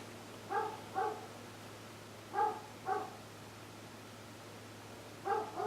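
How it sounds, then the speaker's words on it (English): A dog barks in three separate pairs of short, moderately loud woofs spaced a couple of seconds apart, heard over a steady low hum in an indoor workshop. "That friggin' dog!"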